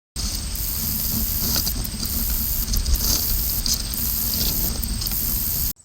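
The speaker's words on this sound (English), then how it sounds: "This is the call of the meadow katydid." A meadow katydid's high, sizzling buzz repeats in short phrases with brief ticking breaks between them, steady and fairly close over a low background rumble.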